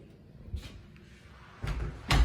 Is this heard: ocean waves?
no